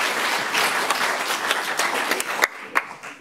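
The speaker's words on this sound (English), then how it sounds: "Big applause for Guno Jones." Audience applause for a speaker walking to the stage at a book event on Black life in the Netherlands: dense clapping that thins out into a few final scattered claps.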